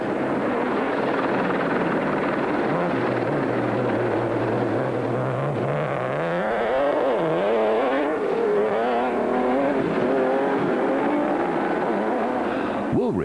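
Nissan Hardbody rally truck pulling away at the start of a desert race, its engine loud and sustained, revs climbing and shifting under a steady roar with commentary running over it.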